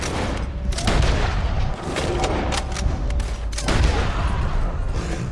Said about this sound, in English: Let's try these high velocity rounds with the bolt action.